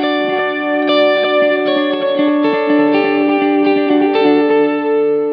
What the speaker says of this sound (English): Let's really turn up the modulation. Get some nice depth in there.